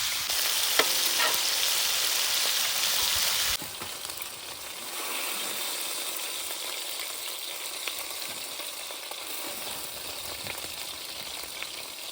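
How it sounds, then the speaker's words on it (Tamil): Stingray fish fries in hot oil in a village kitchen, a steady close sizzle and crackle that runs throughout, louder and brighter at first, then settling into a softer continuous hiss. "வறுத்த மீன் வெந்துனுக்குது."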